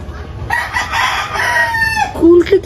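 A rooster crows loudly and close, one long drawn-out call, followed by a few short chicken clucks at the end, with faint background noise and no talk.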